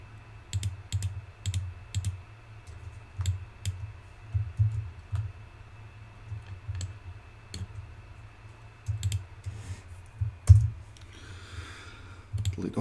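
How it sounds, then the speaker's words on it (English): A computer mouse gives sharp, close double clicks over and over in an irregular rhythm during 3D modelling work, with some brief soft keyboard taps in a quiet room. "Save myself a little double clicking."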